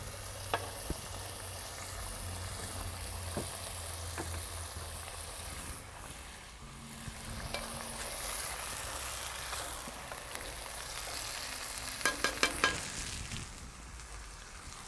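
Eggplant and garbanzo beans fry in oil in a pan, a steady soft sizzle with occasional stirring clatters and a few sharp clicks near the end, no voices.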